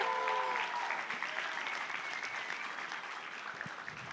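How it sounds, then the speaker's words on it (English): Audience applause for a photographer at a student career week session, steady clapping from a modest crowd in a room, gradually thinning toward the end. "can we just give Angelica a round of applause really quickly?"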